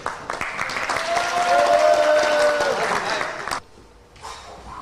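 An audience at a magic show claps and cheers under a held vocal tone, with the crowd noise swelling and then cutting off sharply, followed by a quieter stretch and a brief return of noise.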